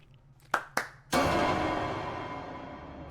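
A few sharp hand claps ring out in a quiet room, two quick ones followed by a louder one whose echo decays slowly.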